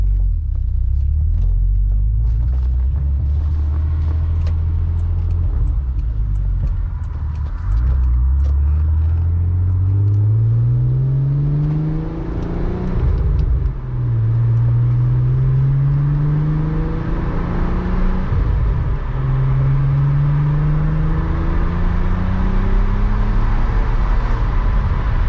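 A VR6 engine in a Volkswagen Jetta wagon hums and rumbles as the car drives, the pitch climbing through several gear changes as it accelerates, close and steady with no talking.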